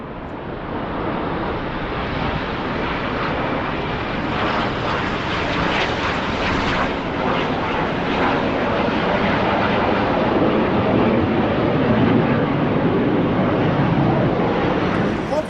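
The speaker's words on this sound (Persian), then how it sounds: "صدا رو میشنوین؟ هواپیما رو نگاه کنین." Airplanes fly overhead in Toronto, a loud, sustained jet roar that swells and lingers for the whole stretch, close and dominant over faint background murmur.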